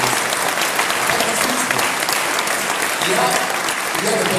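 Loud, dense audience applause at a political party's back-to-school gathering, continuous clapping filling the whole stretch with crowd noise and some voices mixed in.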